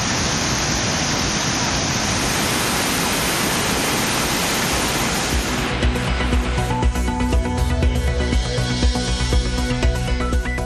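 Water thundering down Thirparappu waterfall in Kanniyakumari, swollen after widespread rain, makes a loud, steady, close roar of dense rushing noise; about halfway through the character shifts and other sounds come in over the torrent.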